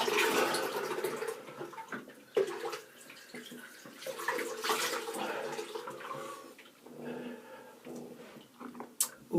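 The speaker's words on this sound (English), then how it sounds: "Now I'll just rinse my face" Water runs and splashes from a tap into a sink as a face is rinsed by hand, a steady close wash with uneven bursts of splashing.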